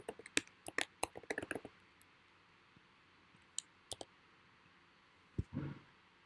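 Crisp mouse clicks while logging in to a website, a quick burst of close, sharp taps, then a few scattered clicks after a pause, faint and alone in a quiet room.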